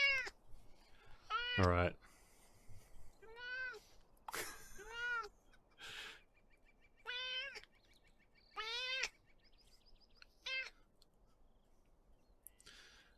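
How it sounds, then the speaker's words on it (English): A big pet cat meows repeatedly and close, a string of loud drawn-out calls with short gaps between them, while someone speaks briefly in between. "It is a big kitty. I have a very big kitty."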